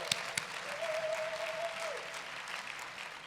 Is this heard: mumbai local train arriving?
no